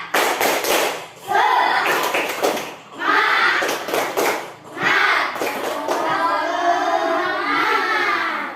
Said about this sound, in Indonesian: sekarang kita tepuk semangat dulu ayo. Tepuk semangat.